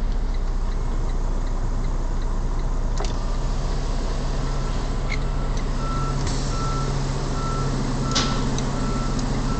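A semi truck at a loading dock at night slides its trailer tandems back. Steady loud engine rumble and repeating reversing beeps are broken by a few sharp metallic clunks.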